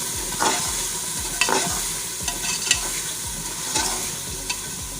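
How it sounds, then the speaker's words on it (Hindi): Masala spices frying in hot oil for matar pulao, a continuous sizzle punctuated by repeated scraping strokes of a spoon stirring through the pan, close and fairly loud with no talking. "मसाले को अच्छे से भून लें आप।"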